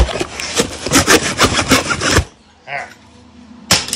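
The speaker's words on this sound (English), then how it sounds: "Hacksaw to the rescue." A hacksaw cutting open a shipping package, a run of quick, close rasping strokes for about two seconds, then a pause with a faint rustle before another stroke starts.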